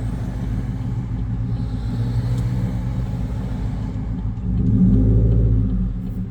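Cars moving through traffic on a road, a steady low engine rumble from nearby vehicles that swells into a louder, deeper acceleration near the end.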